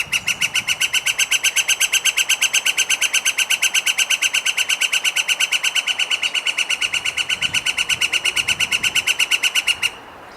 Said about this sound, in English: The flicker's call is described as a sustained laugh.